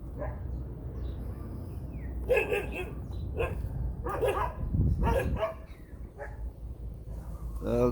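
Dogs in the Philippines bark in several short bursts, somewhat distant, over a low background hum, with no talking heard.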